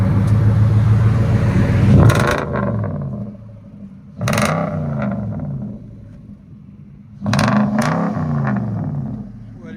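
A car engine with an X-pipe exhaust and Cherry Bomb M80 mufflers idles with a deep, steady rumble, broken by three sharp revs that swell loudly and settle back to idle.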